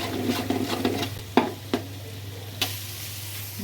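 Beaten eggs seasoned with pepper and salt sizzle in a frying pan for fried rice, while a spatula scrapes and taps against the pan several times over a low, steady frying hiss.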